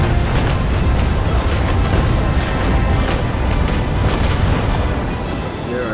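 In the Naval Action naval combat game, a sustained, loud broadside of cannon fire rumbles as a continuous wall of booming blasts that barely lets up before thinning slightly at the close.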